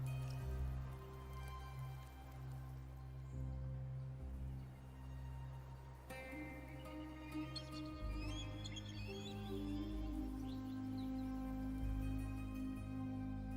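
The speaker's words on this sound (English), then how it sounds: "The rain is passing." Rain falls in the video game Wuthering Waves, a steady soft patter heard alone beneath sustained music, with faint bird chirps at times.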